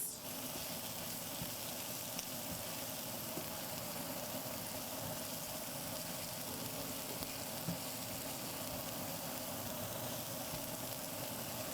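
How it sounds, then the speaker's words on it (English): Onions frying in a pan give a steady, even sizzle throughout with faint stirring scrapes, no voices over it. "Stir up those onions."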